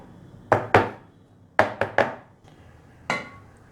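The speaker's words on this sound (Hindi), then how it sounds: "हम इसे अब इस तरह से टैप कर लेंगे हल्का सा।" Six sharp taps ring out in irregular clusters, a hollow knocking against a tin pan of chocolate biscuit cake batter, close by and clear with quiet between them.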